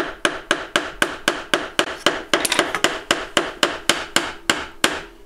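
A chisel is struck again and again while cutting pine dovetails, giving a close, sharp series of evenly spaced knocks, about three per second, with a brief cluster of quicker taps midway and no speech.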